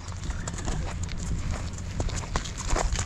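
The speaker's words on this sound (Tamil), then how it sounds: "அந்த குதிரை திரும்ப வருது பாருங்க ப்ரோ" A horse coming back along the ground, its hooves clip-clopping in a steady near rhythm over an outdoor background, with a few faint bird calls and no clear speech.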